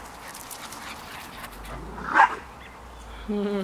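A single sharp dog bark rings out over a quiet outdoor background, followed shortly by a brief whiny tone.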